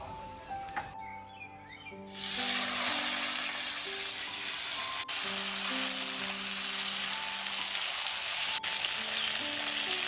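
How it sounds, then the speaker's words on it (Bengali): Nigella seeds and panch phoron hit hot oil for a mango chutney, a sudden loud sizzle that starts after a quiet moment and holds as a steady crackling hiss, with a faint background tone and no talk. "তেলের মধ্যে দিয়ে দিলাম কালো জিরা আর অল্প করে পাঁচফোড়ন"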